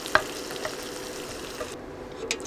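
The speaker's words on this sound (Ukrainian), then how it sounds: "Заправка смажиться" A pan of sauce sizzles steadily up close, with a few clinks of a utensil stirring and the frying briefly dropping quieter near the end.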